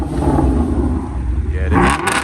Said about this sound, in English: And we also have the Shelby GT350. This thing sounded crazy, man.